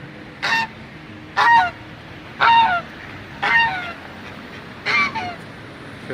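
Five loud geese honks at fairly regular intervals, each a short nasal burst, against quiet outdoor background noise.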